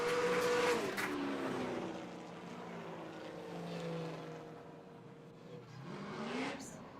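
Drift cars at a Great Lakes Formula Drift ProAm round slide through the bank, their engines loud and close with rising and falling revs and a hint of tire squeal running the whole way.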